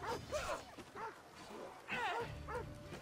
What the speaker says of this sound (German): Komm, scheiß Hund